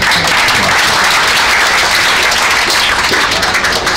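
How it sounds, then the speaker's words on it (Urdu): Loud, close applause fills a religious gathering in Lahore, a steady wash of many hands clapping without pause and no speech on top. "ایک دفعہ اپنے لیے تالیاں بجا لے گئے۔"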